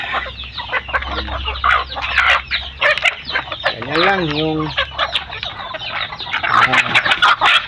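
Many chickens cluck and squawk busily close by, with a rooster's crow rising midway and a brief human voice in the mix.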